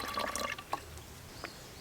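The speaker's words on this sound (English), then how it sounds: "Next, some water. Just a little bit of water." A little water is poured into a homemade vinegar volcano science experiment, making a short, soft splashing trickle followed by a few quiet, separate drips.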